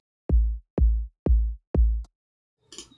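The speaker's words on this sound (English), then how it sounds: "This is the more sub-ear kick." Layered sub kick drum from an electronic music track: four deep, booming hits evenly spaced about half a second apart, each with a long low decay, then a brief noisy burst near the end.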